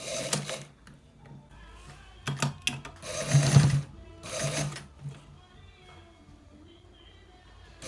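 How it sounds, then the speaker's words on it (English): A sewing machine stitches a neck design on a garment in short, uneven bursts of mechanical whirring with pauses between them, fairly quiet overall, with a faint voice at times. "So we are stitching it, guys. We are definitely stitching it right now."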